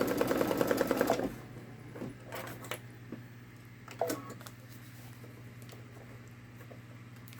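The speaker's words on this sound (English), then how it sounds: "So while it's stitching this middle section" A Babylock Solaris Vision embroidery machine stitching on metallic vinyl, with a brief rapid mechanical stitching burst at the start, then faint scattered clicks and taps over a low steady hum.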